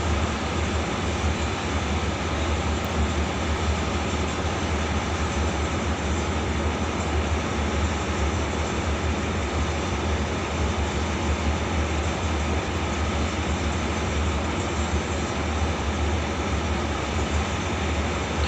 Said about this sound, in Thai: ขบรถสินค้าที่ 725 ต้นทางชุมทางบางซื่อปลายทาง ท่าม่วงนะครับ กำลังเคลื่อนตัวออกจากสถานีนครปฐมนะครับ